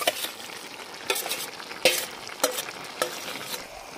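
Fried flat beans and eggplant being stirred into a pot of cooked potatoes and cauliflower for a Bengali dried lote fish curry, a soft sizzle under repeated spoon scrapes and clinks.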